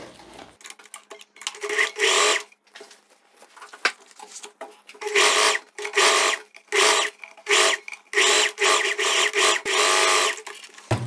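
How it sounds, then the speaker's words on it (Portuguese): A sewing machine topstitches a loose viscose dress, its needle whirring in repeated bursts of one to two seconds separated by short pauses, loud and close, with a quiet voice in the gaps. "E aí eu já vou passar também o pesponto rente"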